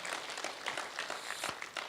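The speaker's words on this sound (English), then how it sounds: "Can I get a little clap on that one?" Light, scattered clapping from a small audience at a Fresno community collaborative meeting, brief and fairly faint with uneven individual claps.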